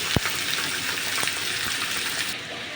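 Ash gourd dropped into a pan of frying onion and green chili, giving a steady loud sizzle with a couple of sharp splashy pops near the start, close and continuous, no voices.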